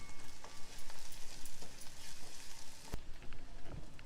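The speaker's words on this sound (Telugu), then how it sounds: "అల్లం వెల్లుల్లి వేగే వరకు మనం వేయించుకోవాలి." Ginger and garlic fry in hot oil for an egg kurma, making a crackling sizzle that swells and fades in pulses. A sharp knock cuts in near the end, and no voices are present.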